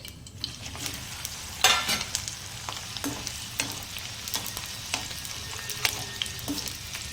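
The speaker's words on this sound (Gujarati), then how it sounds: "આપણે હવે બીજો બેચ પણ સેમ એ જ રીતે તળી લેવાનો છે" Okra (bhindi) frying in oil on a medium flame for a stuffed bhindi dish, a steady close sizzle with occasional clicks and scrapes as the pieces are stirred in the pan.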